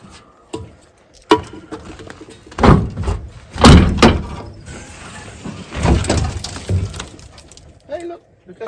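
The cab door of a Poclain 115 20-tonne excavator opens on its gas strut, making several clunks and thuds of moderate loudness spread over a few seconds, with knocks and rattles in between.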